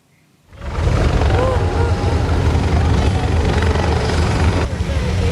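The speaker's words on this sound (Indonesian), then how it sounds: "Helikopter yang ditumpangi Presiden Prabowo mendarat di Stadion Merdeka Kota Jombang, Jawa Timur pada Kamis sore" Helicopter landing at Merdeka Stadium in Jombang, East Java, its loud steady rotor and turbine roar rising in after a brief quiet start and holding close and continuous throughout.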